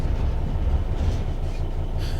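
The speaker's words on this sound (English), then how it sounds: "Apply some throttle to get the train moving." Train rolling along in Train Sim World 3, a steady low rumble of wheels and running gear at slow speed, even and continuous with no talk.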